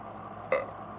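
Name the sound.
burp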